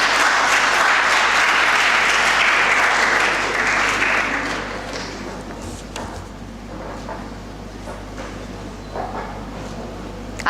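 An audience at a school English speech event applauds loudly for several seconds, then the clapping thins and fades into scattered claps over a low room hum.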